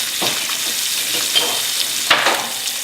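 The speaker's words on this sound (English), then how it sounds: "just gently cook the outside of the trout, just to give it a bit of crispiness" Trout pan-frying to crisp the outside, a loud steady sizzle close up with a few spatters and a light scrape or tap of a utensil against the pan.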